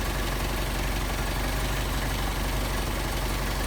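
A Mercedes 190SL engine fitted with Solex 44PHH carburetors idles steadily and loudly up close, with an even low rumble throughout and no voices.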